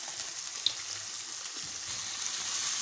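Masala with chilli sauce sizzles softly in a pan while pasta sauce is cooked, a faint continuous hiss with a few small clicks and no voices.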